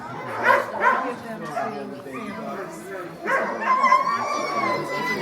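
A puppy at a dog sledding camp in Juneau, Alaska yips, whimpers and gives short barks in close bursts, mixed with people talking and cooing nearby.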